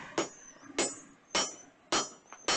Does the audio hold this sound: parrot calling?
no